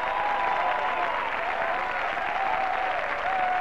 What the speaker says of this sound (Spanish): El aplauso para nuestros panaderos y, por supuesto, también para sus ayudantes.